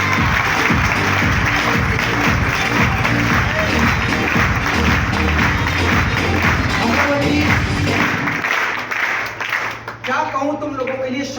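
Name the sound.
audience applause for their parents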